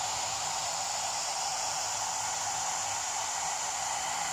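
A One Step hair dryer and styler runs steadily with a constant airy hiss and motor whir, close and even throughout, with no speech.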